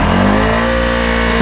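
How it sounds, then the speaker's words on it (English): Honda ATV engine revving after being flooded in a swamp, a loud, close, sustained engine roar with a slight pitch sweep, no talking. "Keep hitting that throttle and give it a bit of"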